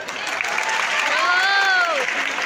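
A crowd at a Hindi comedy poetry event in Indore claps throughout, with a voice rising and falling over the applause partway through.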